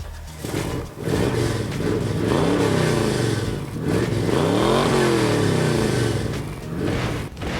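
A vehicle engine roars close and loud, revving up and down in repeated sweeping surges after a brief start, with no talking over it.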